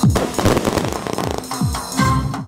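Fireworks salute at the ceremonial opening of a clay-shooting complex outdoors, a rapid string of loud close bangs and crackling bursts tumbling over one another for a couple of seconds.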